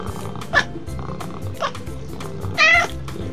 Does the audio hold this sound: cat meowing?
yes